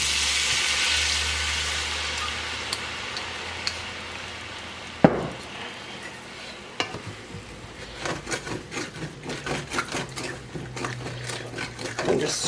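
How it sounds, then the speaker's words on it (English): A hot pan sizzles softly as red wine is poured in, followed by a burst of hissing and a run of scraping and clinking from a utensil working the bottom of the pan. "what we're going to do here is deglaze this pan with some red wine"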